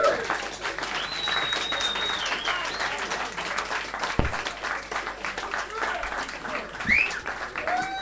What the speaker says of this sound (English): Rex Domino, if you give him a massive round of applause